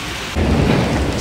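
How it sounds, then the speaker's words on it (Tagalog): Heavy rain pours with deep thunder rumbling in at once after a quieter opening moment, a dense, loud, steady roar on a city street with no voices. "Ang lakas ng ulan."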